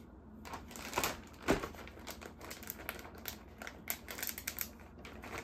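A plastic bag crinkles and rustles close up as pork tenderloin pieces are shaken and coated inside it, in irregular bursts of crisp crackling at low volume, with no speech.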